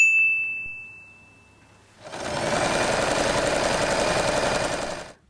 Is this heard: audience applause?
no